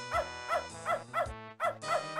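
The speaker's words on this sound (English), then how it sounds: "can we turn this damn VCR off so the dog stops barking?" Dog barking from a VCR in the game Beneath a Steel Sky, a rapid series of about seven close, loud, tonal barks in a steady rhythm, with no talk.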